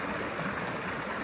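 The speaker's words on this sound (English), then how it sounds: "It's like a massive torrent." Surface runoff after a heavy rainstorm rushes past on a rural property, a steady, moderately faint broadband wash of flowing water with no voices.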